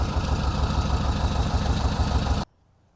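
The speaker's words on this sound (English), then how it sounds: "Good news, with a bit of a rev, you'll notice that number is creeping up." The air-cooled engine of a 1970 Volkswagen single-cab Bay Window Bus runs with a slight rev, giving a steady pulsing chug that cuts off abruptly near the end.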